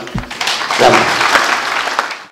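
An audience at a citizens' meeting with the First Lady bursts into applause, a dense burst of clapping that swells briefly and then tapers off, with faint voices mixed in.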